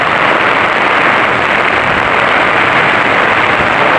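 Heavy rain pours down near the Marikina River in the Philippines, a loud, dense, unbroken hiss with no letup and no voices.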